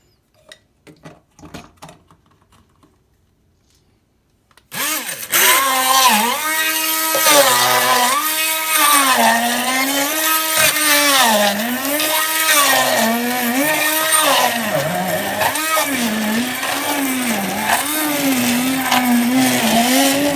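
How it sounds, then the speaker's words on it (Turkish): After a few seconds of light clattering, a blender blending washed grapes starts loudly and runs continuously, its motor pitch wobbling up and down as contents churn. "Yeniden blenderımızı çalıştıralım."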